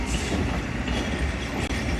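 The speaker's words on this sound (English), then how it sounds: "there's the train that we're going to catch" Passenger train on the rail route toward Machu Picchu in Peru, a close, loud steady rumble of rolling carriages with clattering wheels and faint squeals throughout.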